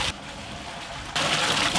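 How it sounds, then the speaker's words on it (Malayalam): Water gushes into a large cooking pot for village-style chicken porridge in a steady, close rushing pour that grows louder and brighter partway through. "10 കുടം വെള്ളം ഒഴിക്കണം നമുക്ക്."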